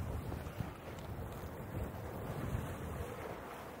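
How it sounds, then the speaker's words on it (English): Wind gusting across a windsurfer on open water, a steady buffeting roar of wind noise blended with waves and rushing water, loud and continuous with no speech. "There's a bit of a gust hitting me."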